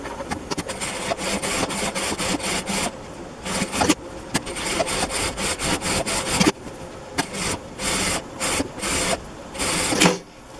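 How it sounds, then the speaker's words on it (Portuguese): A sewing machine runs in bursts while stitching a seam along the edge of a cotton dish towel, its fast rattling whir starting and stopping several times, close and fairly loud. "E aqui eu vou passar uma costurinha nessa beiradinha aqui"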